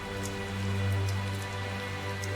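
Steady rain falls in the video game Tales of Zestiria, a dense constant patter with a low droning background and no pauses or voices.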